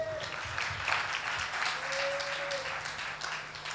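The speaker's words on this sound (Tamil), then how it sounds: "கைத்தட்டுங்க பார்க்கலாம்." Congregation at a Sunday church service clapping hands in steady, sustained applause, a dense wash of many hands at moderate distance with a faint voice underneath.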